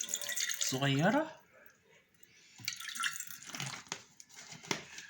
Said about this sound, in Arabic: هنحط حوالي كوباية مية